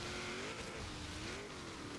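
Engine of a 1992 Mitsubishi Galant VR-4 driven offroad in Forza Horizon 3, a steady, loud, rising-and-falling engine drone with tire and gravel noise underneath, no talking.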